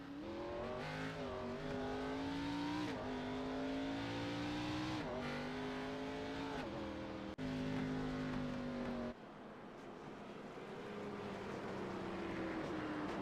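Race cars in a Dialed In Racing League event at Nashville Fairgrounds drone around the track, engines revving and shifting pitch in long sustained passes, fairly distant and steady with a brief drop before building again.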